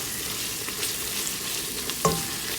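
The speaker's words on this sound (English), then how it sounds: "we're going to add everything inside, and we're going to give it a nice mix" Chicken biryani with masala stirred in a one-pot, a steady sizzling fry hiss with soft scraping stir strokes and one sharper clink of a utensil against the pot near the end, close and moderately loud, no talking.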